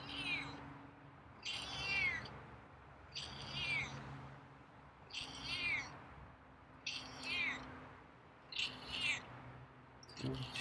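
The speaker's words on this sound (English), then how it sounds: "A little meowy tonight." Feral cat named Scruffy meowing outdoors at dusk, about six drawn-out, rising-and-falling meows spaced roughly every two seconds, fairly close and alone over a low steady background hum.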